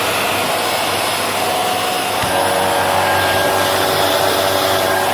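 A cylinder cyclone vacuum cleaner switches on partway through with a sudden thump, then runs with a loud, steady airy whine close by.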